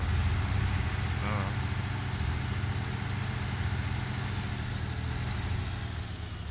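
A Zetor tractor engine idles steadily up close, a continuous low rumble with an even throb that holds for the whole stretch.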